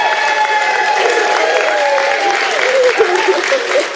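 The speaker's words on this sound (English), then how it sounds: "Give her a round of applause" Loud, sustained audience applause at a comedy show in Nottingham for a Kemet FM radio presenter receiving a certificate, continuous clapping with crowd noise and a voice speaking over it.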